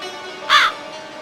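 A single crow caws once, short and harsh, in an animated children's story, heard close and clear over a low steady background hum.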